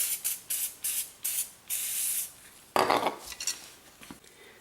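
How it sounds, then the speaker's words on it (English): Aerosol can of WD-40 sprayed in the engine bay of a Corvette: several short bursts in quick succession, then a longer continuous spray, followed by a louder broadband hiss and some clinking handling noise, close and with no talk. "Okay, I'm gonna go ahead and try some WD-40."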